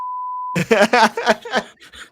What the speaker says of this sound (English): So, Chris, you might need to beep this out